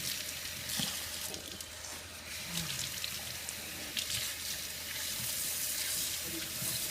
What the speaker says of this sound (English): And you're gonna let the water run through.